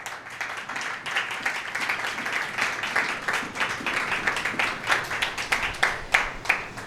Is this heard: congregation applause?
yes